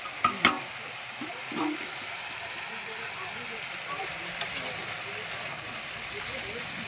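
Eggplant, pumpkin and other mixed vegetables frying in a pan give a soft, steady hiss with a few light clinks of a utensil near the start and middle.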